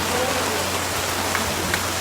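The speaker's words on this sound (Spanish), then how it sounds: "hoy está ventando, hoy está lloviendo y aquí seguimos fieles" Steady rain pours down in a windy, stormy setting, a dense continuous hiss of drops with no pauses, close and fairly loud.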